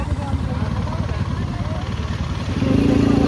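A KTM dirt bike on a sandy beach gives a near, buzzing engine rumble that swells louder at the end, with people talking over it.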